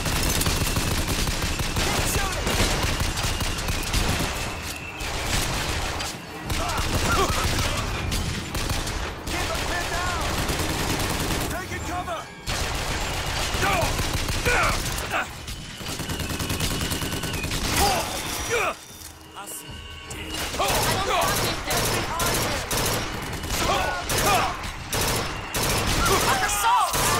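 Sustained gunfire from multiple weapons roars almost continuously, dense overlapping bursts and volleys with only brief lulls, mixed with shouting voices.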